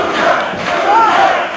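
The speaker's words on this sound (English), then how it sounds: "The crowd begins that chant again." Loud crowd at a professional wrestling match chanting in unison, a dense roar of voices with rising and falling rhythmic swells for a short moment.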